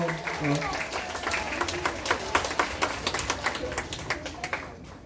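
Children clap together during an elementary Sunday school worship service, a ragged burst that settles into sharper rhythmic claps, with a voice talking over it at the start.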